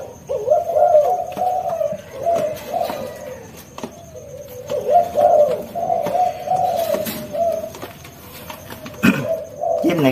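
Pet pigeons or doves coo repeatedly in soft, rolling phrases at close range, with occasional clicks and rustles from the cage between calls.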